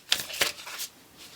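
A deck of oracle cards being shuffled, with a few quick riffling bursts close by, two sharper flicks early and then lighter rustles trailing off.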